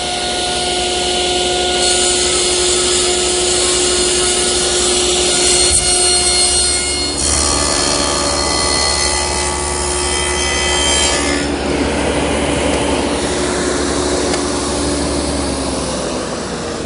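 A table saw trims a plywood tenon guided by a miter gauge, a loud, steady whine with rasping wood contact that shifts in pitch partway through and carries on for many seconds.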